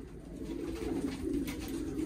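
Pigeons in a coop cooing close by, a steady overlapping run of low, soft burbling calls with no speech over them.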